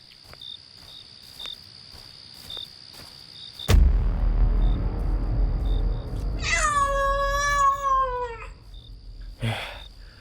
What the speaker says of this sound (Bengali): এ তো একটা বন বিড়াল